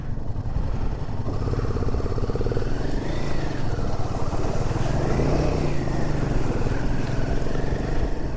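A motorcycle splashes through a water crossing on a rough off-road mountain track, its engine a continuous close buzzing drone that rises and falls against steady spray and churning water.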